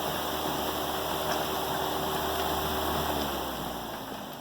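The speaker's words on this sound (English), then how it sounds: "the noise you hear is from the point where the sail would be in irons, where it's flopping in the breeze" A light sail on a model vertical-axis wind turbine flaps and flutters in the breeze while in irons, a steady rushing, rattling noise at moderate level that fades slightly toward the end.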